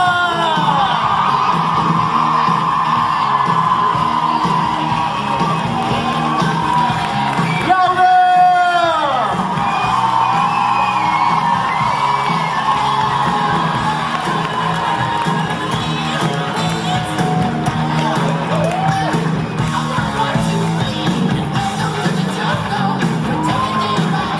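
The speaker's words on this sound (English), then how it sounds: "One big scream for the Jibcon!" A large convention crowd at Jibcon 2016 screams and cheers in a sustained roar, loud and close, with a brief whistle-like sweep partway through and shouting voices mixed in.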